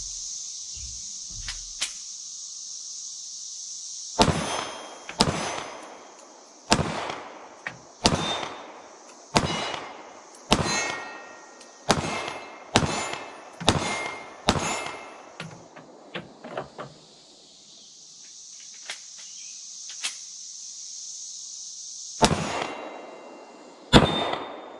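Shots from a Shadow Systems CR920 pistol fired at about 15 yards at an outdoor range ring out as a string of about a dozen sharp, loud reports at an irregular, fairly quick pace, with a steady high hiss behind them.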